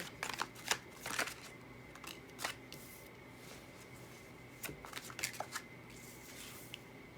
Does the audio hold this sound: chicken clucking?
no